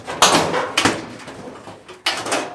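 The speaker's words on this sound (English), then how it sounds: "The whole door just comes off." A dryer's front door panel is lifted off after its small screws are removed, giving three sharp clattering knocks and scrapes of metal panel handling, close and fairly loud, with no talk.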